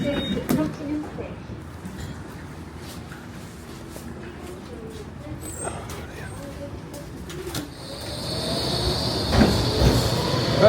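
Trains rumble and hiss through busy Nottingham Station, with a brake squeal late on, pigeons cooing nearby and people talking in the background.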